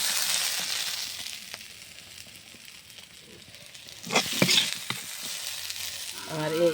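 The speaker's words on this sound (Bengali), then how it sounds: "আমার আলু পেঁয়াজের পোল ভাজা হয়ে গেছে।" Potato and onion sizzle as they fry in a pan, a steady hiss with louder crackling bursts midway as the pieces are stirred, then a brief clatter at the end.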